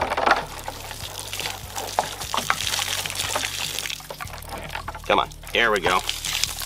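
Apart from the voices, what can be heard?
water leaking from bullet-shot jug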